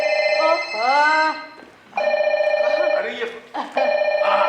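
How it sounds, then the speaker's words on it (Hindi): A phone rings in repeated electronic trills, loud and close, with brief pauses between bursts while a voice speaks over part of it. "अरे मोबाइल बज रहा है उनका, कहाँ रख दिया?"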